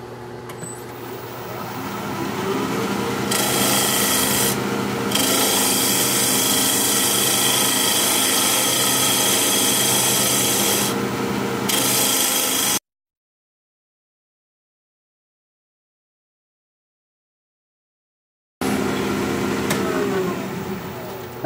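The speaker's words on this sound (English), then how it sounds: "I'm gonna use a half inch bowl gouge. Let's see what kind of speed we can get here. We'll try about 1600 RPM" A wood lathe spinning near 1600 RPM while a half-inch bowl gouge cuts a wooden lid, a steady loud scraping whir running unbroken for long stretches, then stopping abruptly into silence before the turning resumes.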